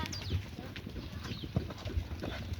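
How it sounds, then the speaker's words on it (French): Horse hooves beat during a riding lesson, as a horse is put back into a gallop, making a steady rhythmic series of dull thuds on soft ground, moderately close, with faint voices in the background. "On est à faux et on remet le cheval au galop"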